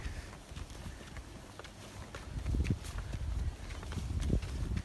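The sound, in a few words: donkey hooves walking, pulling a loaded wagon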